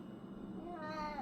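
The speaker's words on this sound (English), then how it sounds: "So if you hear the meowing in the background" A pet cat meows in a kitchen, begging for snacks, with one short, faint meow that rises and then falls at the end, heard against quiet room sound.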